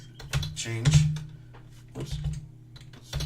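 Quick clicks of computer keyboard keys typing a short script command in the Unity editor, several close, light taps in uneven bursts over a low steady hum.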